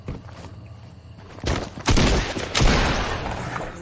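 A few loud video game gunshots boom close by in quick succession, followed by a rumbling, noisy tail with no talking.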